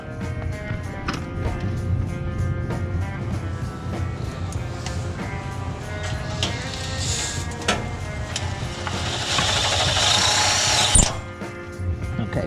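A power drill drives screws into a hexagon muffler cover on a 2007–2018 Jeep Wrangler JK, whirring in short bursts with ratcheting clicks, close and loud, rising to a strained whine before stopping.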